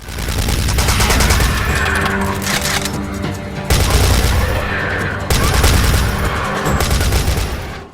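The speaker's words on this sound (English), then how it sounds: "the gunshots sound cool" Rapid, loud gunfire from the Wii light gun game Dino Strike cracks in sustained bursts, with brief pauses between volleys and a heavy, punchy low end.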